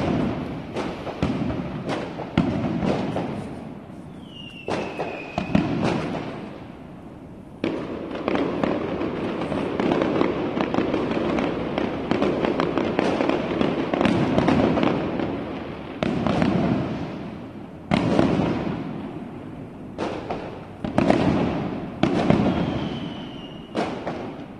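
New Year fireworks bursting among high-rise buildings in Shulin, New Taipei, for the 2018 countdown: a dense, continuous series of booming thuds and crackling explosions echoing between towers, with occasional rising whistles.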